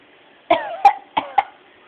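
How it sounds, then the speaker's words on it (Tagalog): A person coughs on request, four short sharp coughs in two quick pairs, close and fairly loud against a quiet background. "Ubo, ubuhan ka."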